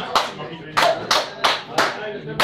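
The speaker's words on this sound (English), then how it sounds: "This is a song that you can all participate in with some hand clapping." Live audience clapping along to a song, five or six sharp, loud rounds of hand claps in a steady beat, each burst rising and fading, with a faint voice underneath.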